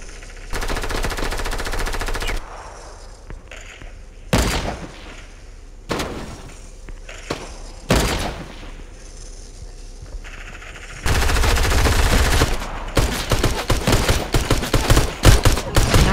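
Rapid bursts of automatic gunfire crackle in a Fortnite duo match, several loud volleys separated by single sharp shots and quieter gaps, with a long sustained burst near the end.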